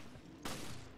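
Ally gunfire in Resident Evil: Revelations, a sudden loud burst of rapid shots that starts after a low background rumble and keeps going as a dense, crackling volley to the end.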